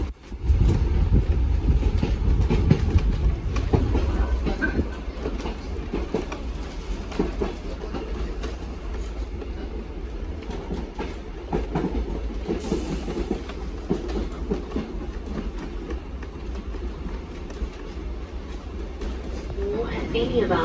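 A scenic train travels from Cairns to the Kuranda rain forest with a steady, loud rumble and rattling of carriages running throughout, brief metallic squeals and clicks over it, and an onboard announcement voice talking over the noise.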